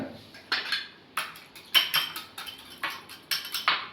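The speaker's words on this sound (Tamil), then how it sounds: "அதை வந்து நல்லா இப்போ மிக்ஸ் பண்ணிக்கோங்க" Yogurt whisked in a bowl gives quick rhythmic clinking strokes in short bursts, about a dozen scrapes and taps close by, with quiet gaps between them and no talking.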